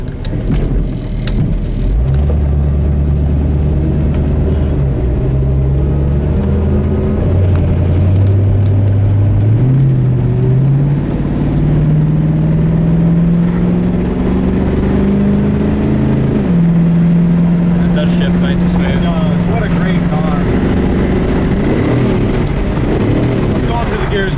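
A 1969 Mustang Fastback's V8 runs with a loud, choppy, lumpy idle and rumbling engine note that rises and falls steadily throughout, close up, with a voice talking over it.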